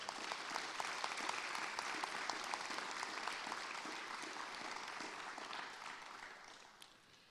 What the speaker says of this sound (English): will you please give the people in the stands a big round of applause?